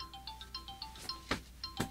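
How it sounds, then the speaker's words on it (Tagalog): A cellphone ringtone plays a faint, repeating melody of short electronic tones, broken by a couple of soft thuds. "Daw mauawag iti cellphone ko."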